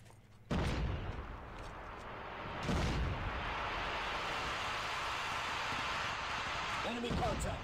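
Grenade blast in Call of Duty: Mobile during a tournament match, a loud sudden explosion followed by a second thump and a long rumbling, noisy aftermath of gunfire and battle ambience.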